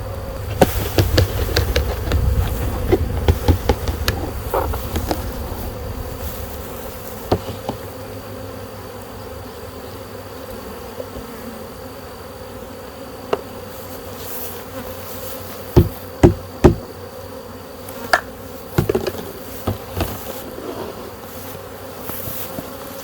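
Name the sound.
honey bees buzzing after pan is tapped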